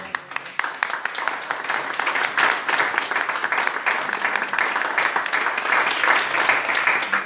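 A church congregation applauds during a sermon, sustained dense clapping with some sharper individual claps, fairly loud and steady throughout.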